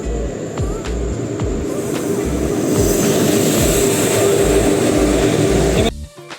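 Train at Jangipur station, a rail service bound for Sealdah: a loud, steady rumble of wheels and carriages with rhythmic low clatter and a high hiss, running continuously before cutting off abruptly near the end.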